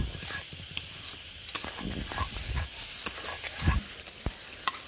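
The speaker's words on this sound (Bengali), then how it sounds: "মলা মাছের শুটকি কষানো হয়ে গেলে" Dried mola fish sautés with spices in a pan, a low sizzle under irregular stirring scrapes and light knocks, moderately close.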